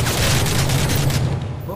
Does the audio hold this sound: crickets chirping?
no